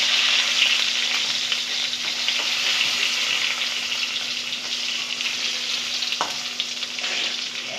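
Slices of pointed gourd (potol) fry in hot oil with a continuous, close crackling sizzle over a faint steady hum, with no talking.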